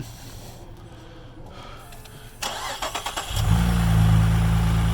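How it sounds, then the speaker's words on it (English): A Saab 2.8T car engine with misfires cranks, fires and starts, a brief churning crank giving way to a loud, steady idle rumble close by. "Start the car."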